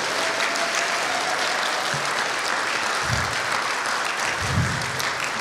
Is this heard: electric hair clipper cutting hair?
no